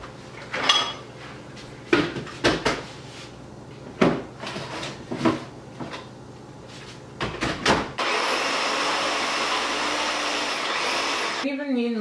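After several sharp clatters and bangs of dishes and a lid being handled, a food processor fitted with a dough blade whirs loudly and steadily for about four seconds, mixing vegan protein powder brownie batter, then cuts off abruptly.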